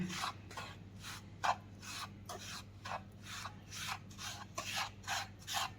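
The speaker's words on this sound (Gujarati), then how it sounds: "આ મેં 4 ટેબલ સ્પૂન દૂધ એડ કરેલું છે અને સારી રીતે બધું ચલાવી લેશું." A spoon stirs a wheat flour mixture with milk for atta peda, making faint, close, rhythmic scraping strokes, roughly a dozen in quick succession.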